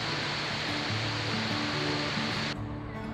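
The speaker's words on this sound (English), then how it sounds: "a pretty impressive waterfall" Big Creek Bridge waterfall on a backpacking trail, a steady broadband rush of falling water that fills the whole clip loudly and without pause, cutting slightly duller near the end.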